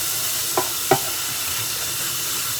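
The back of a metal spatula is scrubbed, giving a steady hissing wash with three or four sharp scraping strokes spaced apart, close and with no voices.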